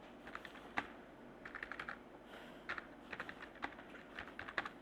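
Keystrokes from someone typing C code on a computer keyboard come in quiet, irregular bursts of clicks with short pauses between them, close to the microphone and with no talking.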